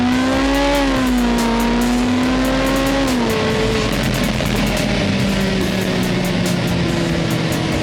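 Porsche 918 Spyder plug-in hybrid with 900 horsepower accelerating hard in race mode, a loud engine note climbing through the revs, then dropping at a gearshift and climbing again, with a steady roar of wind and road noise underneath.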